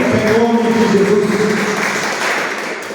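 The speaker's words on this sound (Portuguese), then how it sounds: "pode aplaudir com fé em nome de Jesus" A church congregation claps together in a sustained wave of applause that starts strong and slowly tapers over a few seconds, with faint voices underneath.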